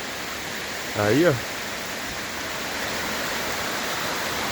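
A waterfall beside a hiking trail gives a steady, full rushing roar throughout, with a voice briefly speaking over it near the start.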